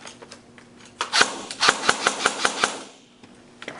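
A Lancer Tactical airsoft electric gun, worn after a stress test and running on a 9.6 volt battery, fires a quick run of about seven sharp, evenly spaced cracks close by, with a few softer clicks before and after.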